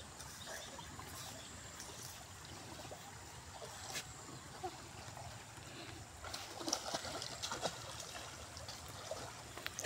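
Cold water trickling and babbling in a stream, a steady soft wash of flowing water with small splashes, heard close and faint.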